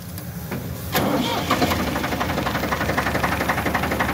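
A 1980 Ford 4600 tractor engine cranks briefly, then catches and settles into a loud, steady, rhythmic diesel chug close by.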